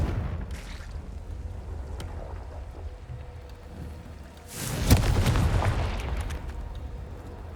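A Confringo fire spell explosion in the Hogwarts Legacy video game: a sudden loud burst midway through, followed by a rumbling, roaring tail over a low ambient drone.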